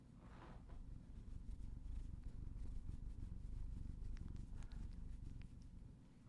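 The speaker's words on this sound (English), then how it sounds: "He's purring." A cat purrs up close, a low steady rumbling hum that runs throughout with faint soft rustles on top, quiet and alone.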